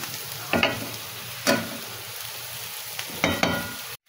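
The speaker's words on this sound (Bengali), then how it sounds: "শুধু লবণ হলুদ, হ্যাঁ, আর একটু মরিচের গুঁড়া দিয়েছি, দিয়ে ভাজি করছি" Taro stolons frying in a pan with salt, turmeric and chili powder, giving a steady sizzle with several bursts of scraping and stirring, each stroke louder for a moment.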